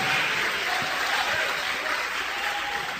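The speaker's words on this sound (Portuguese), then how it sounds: "Vamos aplaudir o Senhor Jesus." A church congregation claps together in sustained, dense applause throughout, a steady wash of many hands at an evangelical worship service.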